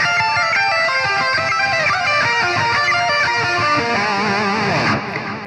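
Distorted electric guitar lead played through an Auroratone Ultra-Violet bridge pickup into an Archetype Nolly amp plugin, a loud, sustained run of bending and moving notes that rings out and cuts off near the end.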